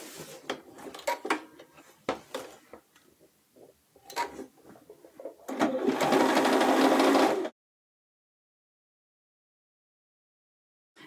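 A sewing machine edge-stitches pant pocket pieces. Scattered light clicks and taps come first, then one short, steady run of stitching that stops abruptly into silence.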